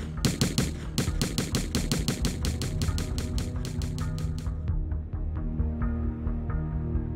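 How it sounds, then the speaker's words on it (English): Gunfire from a Bushmaster semi-automatic rifle in a school shooting, a loud, fast, sustained string of sharp shots in rapid rhythm that breaks off, followed by sparser, quieter shots that ring out and echo. "154 rounds from a Bushmaster semi-automatic rifle."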